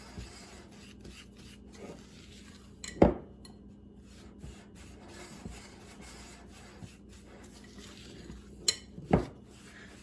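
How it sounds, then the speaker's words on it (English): Homemade sugar scrub ingredients being mixed in a bowl give soft gritty rubbing and scraping, broken by two sharp clinks against the bowl, close and fairly quiet with no talk. "now we're gonna really get in there and mix these until they're thoroughly combined"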